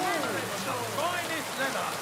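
Steady rain falls in a medieval village in Kingdom Come: Deliverance II, a continuous dense hiss of drops on surfaces, with faint voices murmuring underneath.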